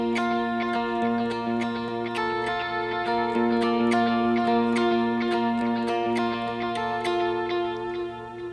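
Clean electric guitar riff with delay: steady ringing eighth-note picking with repeats blurring into a shimmering, continuous pattern, played alone without talk.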